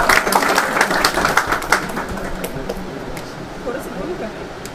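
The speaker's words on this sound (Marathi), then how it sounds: "टाळ्या वाजवा मित्रांनो." An indoor audience claps, loud and dense at first and then thinning and fading over a few seconds, with voices talking beneath it.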